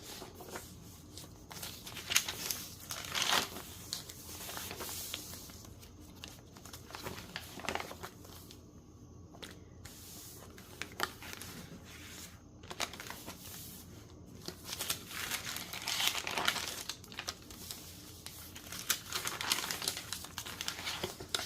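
Vintage papers of varied weights and ages in a Halloween junk journal crinkle and rustle close up, soft scattered crackles and flips coming in irregular bursts, no voices heard.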